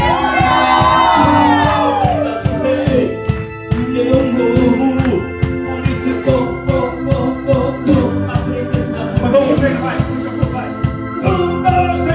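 Church congregation at a celebration service, loud crowd shouting, whooping and cheering together in bursts over music, near and energetic throughout.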